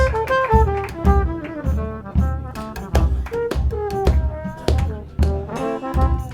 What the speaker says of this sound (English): Hear the bass.